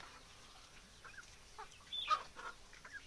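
Free-range desi chickens on a poultry farm give soft, scattered clucks, faint and distant, with a slightly louder cluster of calls near the middle and no voices.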